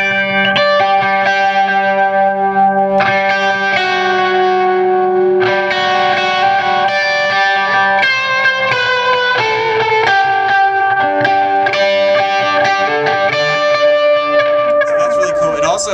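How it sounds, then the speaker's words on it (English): Distorted electric guitar played through a JHS Panther analog delay pedal with tap tempo: sustained chords and single notes with repeating echo tails and a warbling modulated trail near the end, loud and steady. "It's this JHS Panther, which I just got. So the JHS Panther is totally analog"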